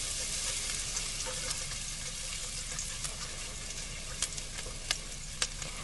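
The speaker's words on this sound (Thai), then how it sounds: "พอน้ำมันเริ่มร้อนเราก็ใส่กระเทียมลงไปเจียวค่ะ" Garlic fries in hot oil in a wok, a loud continuous close sizzle with faint occasional pops and crackles throughout.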